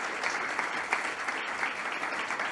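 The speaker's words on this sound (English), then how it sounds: "Big applause again for Nicolas and his brother Raphael" An audience applauds a brother duo named Nicolas and Raphael at a design fair pitch, steady dense clapping throughout at moderate volume, with no talk over it.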